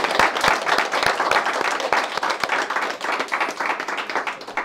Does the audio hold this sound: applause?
yes